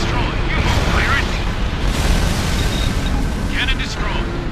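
Heavy, sustained explosion roar from a destroyed railgun cannon in the Ace Combat Infinity flight game, a loud continuous rumbling blast filling the whole clip, with brief radio voice chatter over it.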